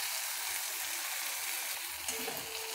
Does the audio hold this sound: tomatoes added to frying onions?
yes